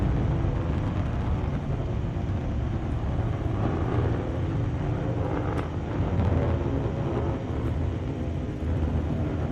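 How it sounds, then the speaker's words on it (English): New Shepard rocket's BE-3 engine during a crewed launch, a dense, steady, loud roar and rumble filling the whole stretch without talk. "listen to the roar of the BE3 engine"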